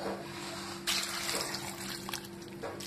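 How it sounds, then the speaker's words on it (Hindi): Water trickles steadily into green mango paste with roasted cumin, black salt, sugar and ice in a blender jar, a close, soft pouring hiss with faint splashes. "इसमें हम थोड़ा सा पानी ऐड करेंगे"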